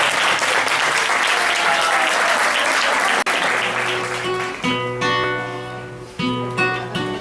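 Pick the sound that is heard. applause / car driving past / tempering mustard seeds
applause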